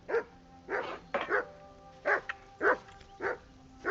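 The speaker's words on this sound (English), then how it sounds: "Whistle at that mutt of yours to stop barking!" A dog barks in the Kingdom Come Deliverance 2 video game, a run of seven sharp, evenly paced barks with one quick double bark partway through, clear and fairly close.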